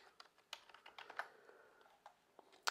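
Quiet, close typing on a computer keyboard, a quick irregular run of light clicking keystrokes with small gaps and a sharper final tap.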